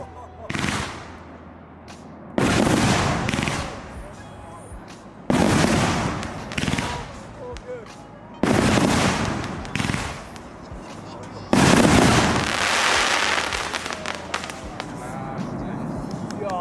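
Fireworks cake, Gold Edition 50 mm, 25 shots, firing in loud bursts, a rapid series of booming shots grouped in several volleys with crackling trails between, close and continuous for the whole stretch.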